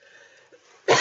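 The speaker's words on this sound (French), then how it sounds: "Je tousse." A single short cough bursts out near and loud at the end, after a stretch of faint background hiss.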